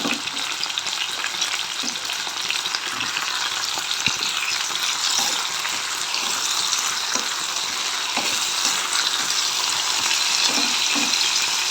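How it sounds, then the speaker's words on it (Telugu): Tomatoes and capsicum frying in a pan, a loud continuous sizzle with scattered stirring clicks throughout, close and steady with no voices. "ఇప్పుడు ఇవన్నీ కొంచెం వేగనివ్వాల"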